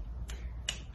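Two crisp finger snaps about half a second apart, close and fairly quiet over a low background hum.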